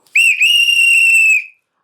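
A single shrill whistle blast, loud and close, held for over a second with a brief break right after the start, then cut off into silence.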